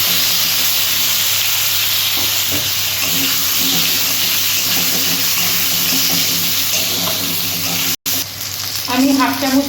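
Panch phoron whole spices sizzling and crackling in plenty of hot mustard-fish oil in a pan, a loud, steady fry hiss with small pops, ending in a sharper, brighter spatter.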